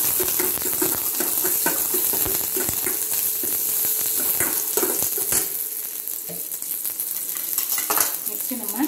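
Small onions (shallots) sizzling in hot oil with fenugreek, cinnamon, chilli and curry leaves for rasam, a continuous crackling fry with a spoon or spatula scraping and clinking against the pan, close and steady, no talking.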